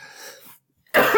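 Someone coughs once, close and loud, right after a stretch of speech and a short silence.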